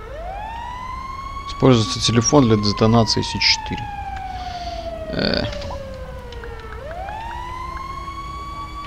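A fire truck siren in the video game GTA V wails in long rising and falling sweeps, loud and continuous, while someone talks over it in bursts and a short game line also sounds.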